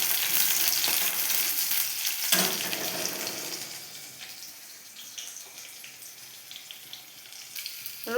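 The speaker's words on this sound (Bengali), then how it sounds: "রসুন কুচিটা আমি লাল করে ভেজে নেব।" Chopped garlic fries in a pan for a Bengali kalmi shak dish, browning to a reddish colour. A steady close sizzle crackles loudest at the start, then softens and thins as it goes on.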